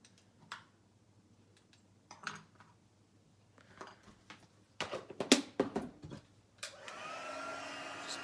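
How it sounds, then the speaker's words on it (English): Heat embossing tool switching on to melt embossing powder, preceded by scattered taps and handling clicks, then a steady close whoosh of hot air blowing continuously at the end. "Just bring the heat tool in."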